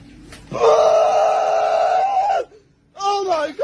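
A man screams in a long, loud, sustained wail that cuts off abruptly, followed after a short pause by another strained yell.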